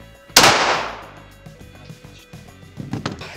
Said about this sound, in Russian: Следующий выстрел.